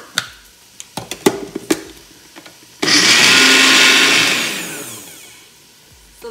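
An electric blender grinds freshly grated coconut into a paste for a Kerala sadya dish, a loud whirring roar lasting a few seconds after some knocks and clatter from loading the jar, then fading down.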